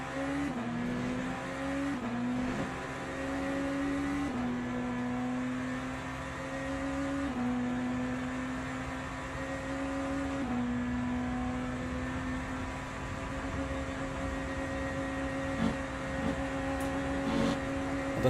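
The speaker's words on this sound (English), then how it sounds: "That Ferrari is fast on the straight." A Ferrari race car engine in the Le Mans Ultimate racing game holds a steady high drone down a straight, its pitch stepping up through several gear shifts, loud and continuous with no talk.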